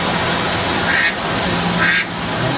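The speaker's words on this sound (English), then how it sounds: "Until a duck swims into the shot." A duck swimming near a tram gives two short, rasping quacks about a second apart, over a loud, steady background rumble.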